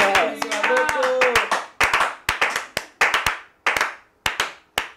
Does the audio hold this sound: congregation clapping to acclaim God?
yes